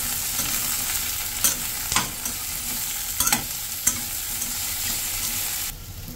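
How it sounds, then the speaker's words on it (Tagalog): Shiitake mushrooms and fish maw being stirred in a frying pan for a braised dish: a spatula scrapes and clacks against the pan several times at irregular intervals over a steady low sizzle, close up, with no talking. "haluin natin"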